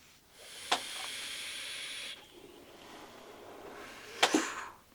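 Two short vape draws on a Noisy Cricket mod build give a soft crackling hiss, each a sharp onset fading over a second or two, quiet and close with no voices.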